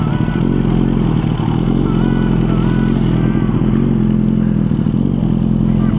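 A warmed-up Suzuki motorcycle engine runs at a steady, loud idle close by, with a low rumbling throb and some mechanical clatter and no talk.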